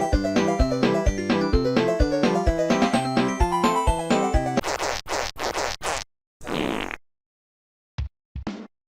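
Soundtrack music from the Super Famicom game Super Family Circuit, with chippy synth tones over a steady pulsing beat, then harsh noisy bursts and choppy fragments broken by silences near the end, with no talk.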